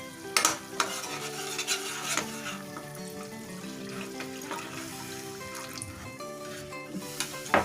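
Water poured into sizzling curry masala for bottle gourd kofta curry, a spoon scraping and stirring the pan in repeated close strokes while the sauce bubbles and hisses steadily, with no talking.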